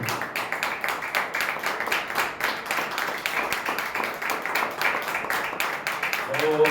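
A church congregation claps steadily in fast, even rhythm for the Lord, dense and continuous across the whole stretch, with voices mixed in under the clapping.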